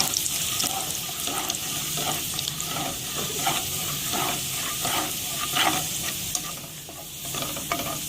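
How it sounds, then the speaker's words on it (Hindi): Garlic hits hot oil in a pan for chicken Manchurian, a loud, close, busy sizzle with crackling bursts and scraping stirs throughout, no talking. "अब इसी में लहसुन को डाल देना है।"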